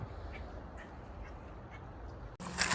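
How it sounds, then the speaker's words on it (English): Ducks quack beside the San Diego River, a few faint, scattered calls over quiet outdoor ambience, followed by a brief louder rustle near the end. "Some ducks right here."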